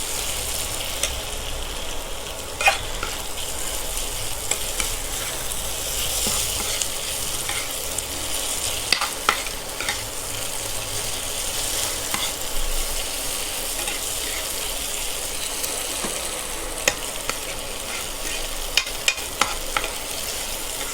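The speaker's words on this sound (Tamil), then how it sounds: "இது நல்லா மிக்ஸ் பண்ணிடலாம்." Pattani masala fried and stirred in a pan, a steady close sizzle running throughout with occasional small clicks and scrapes of the spoon, no voices.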